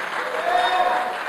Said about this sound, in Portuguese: eu gostaria que você aplaudisse o Senhor